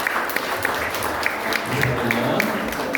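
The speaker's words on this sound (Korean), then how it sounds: "큰 박수 한번 보내주시죠." Applause from a church congregation during a deaconess ordination thanksgiving service, a steady spread of many hands clapping at moderate distance, with faint voices and a few sharper claps standing out.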